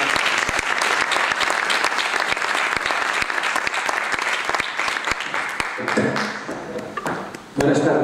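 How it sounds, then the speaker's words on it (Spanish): An audience at a lecture on trams applauds loudly and steadily for several seconds, a dense wash of clapping that thins briefly near the end before a final burst. "les pido un aplauso para ellos"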